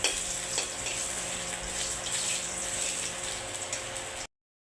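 Cumin seeds, bay leaf, dried red chilli and ginger crackle and sizzle in hot oil for winter vegetable khichuri, a dense close frying hiss with scattered pops and stirring scrapes, ending abruptly.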